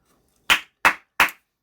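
Three sharp hand claps in an even rhythm, close and loud, each separated by silence in an otherwise quiet room, made to clear energy before a zodiac tarot reading.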